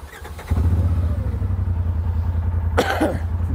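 A 2022 Polaris RZR Turbo R 4 Ultimate UTV engine cranks and catches, settling into a loud, close, steady low idle with a brief rising rev burst near the end.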